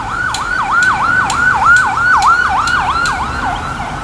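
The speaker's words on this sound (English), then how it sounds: "An ambulance" An ambulance siren passes on an early Saturday morning near an overpass, wailing in a rapid, regular up-and-down yelp, loud and clear with no talk over it.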